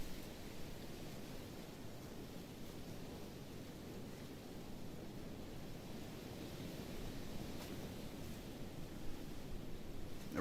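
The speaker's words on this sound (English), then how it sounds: "Man, those waves are huge." Ocean waves on the Norway water of the fishing game Fishing Planet, a steady broad rushing wash that swells faintly now and then and runs unbroken for the whole stretch, with no voices.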